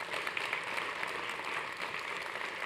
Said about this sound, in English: So round of applause for Dr. Richard Santillan.